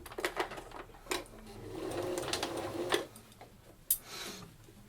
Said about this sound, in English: as you sew a curved seam, the teeth of your sewing machine will drag your fabric through